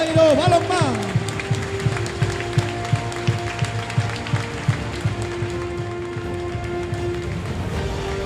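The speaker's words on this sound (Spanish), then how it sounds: "Forte o aplauso para o campeón, xogadores, corpo técnico" A crowd at a handball final-four championship claps in a steady rhythmic beat for the winning team, players and coaching staff, while a voice talks over the public address.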